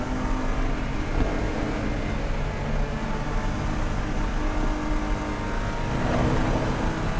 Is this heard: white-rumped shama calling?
no